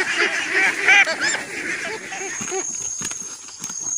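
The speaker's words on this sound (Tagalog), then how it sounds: "Nag-evacuate kami ng mga itik." Ducks on a farm honk and quack in a noisy cluster close by during an evacuation, calls overlapping continuously with some clattering movement.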